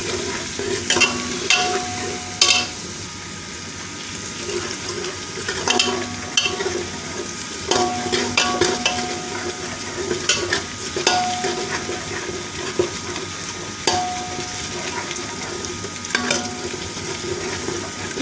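Ginger garlic paste fries in a pan for an aloo gobi dhaba-style dish, a steady close sizzle with repeated scraping stirs and clinks of a spoon against the pan throughout.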